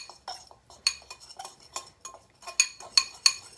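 Sliced apples tossed with cinnamon in a bowl give a series of close, sharp utensil clinks and knocks against the bowl in an uneven stirring rhythm, with quiet gaps between strokes.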